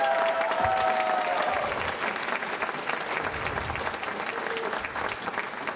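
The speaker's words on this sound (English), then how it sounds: "please give me a warm round of applause for all of our students and their accomplishments" A concert audience at a spring guitar night applauds the guitar students with a warm, full round that is loudest at first and then settles into steady clapping, with a brief cheer-like tone near the start.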